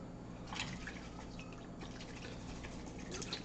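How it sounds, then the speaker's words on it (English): A paintbrush is swished and rinsed in a container of water, producing soft irregular drips and sloshing splashes at close range against low background hum. "Get my brush all cleaned off again."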